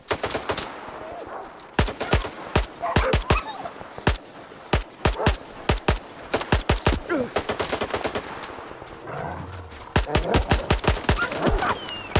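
Rapid bursts of gunfire in the video game S.T.A.L.K.E.R. 2, loud close shots in quick irregular volleys and single cracks, spread across the whole stretch with short pauses between.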